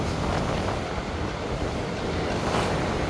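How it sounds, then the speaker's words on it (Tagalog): Wind gusting at Barak Beach in Zhubei, Taiwan, a steady loud rushing roar buffeting the microphone and blending with surf, no speech. "Mahangin pag ganito, no?"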